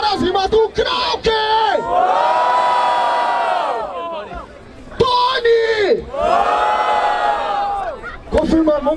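Crowd at a Brazilian freestyle rap battle in Barueri roaring and whooping in two big surges for a rapper's verses, loud shouted voices rising and falling with a host calling between bursts.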